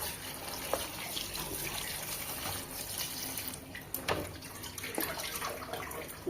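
Running water splashes and trickles steadily as thick water spinach stalks are rinsed, likely under a tap or in a sink, a close and continuous wash with a few louder splashes.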